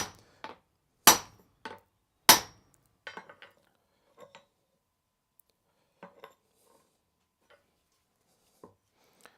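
Two loud metallic hammer strikes ring out as a wedge is driven into a tool handle in a blacksmith shop, followed by lighter taps and scattered clinks that fade into quiet.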